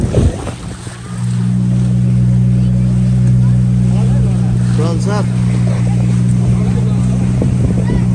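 A boat engine drones steadily as the boat heads out to sea off Goa, a loud constant hum with wind and water noise, after a short quiet start; people talk and call out over it.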